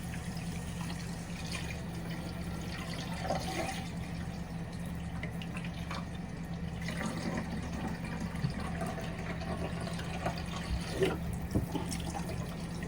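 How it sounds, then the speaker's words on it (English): Kitchen tap water runs steadily onto dough-covered dishes in a sink, a continuous close splashing wash with small clinks and drips mixed in, no talking over it. "I'm putting water on them so the dough doesn't stick till I can wash them."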